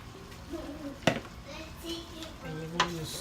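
Rice being stirred into chicken and chickpeas in a pot, with soft scraping and clinks of a spoon against cookware under a gentle sizzle, while voices talk faintly nearby.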